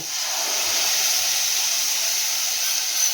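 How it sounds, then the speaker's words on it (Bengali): Spice paste and garlic paste going into fried onions and tomatoes in a pan produce a constant, fairly loud, airy hiss with no breaks and no voices. "এবারে আমি এই মশলার পেস্টটাকেও এর মধ্যে দিয়ে দেব।"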